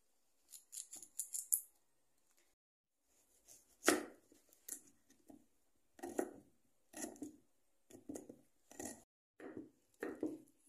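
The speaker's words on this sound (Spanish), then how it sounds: "Ahora aquí vamos a empezar a picar el rábano." Knife chopping radish on a cutting board for chicken pozole: a quick cluster of light strikes, a pause, then a sharp single chop and a steady run of evenly spaced thuds, close and alone.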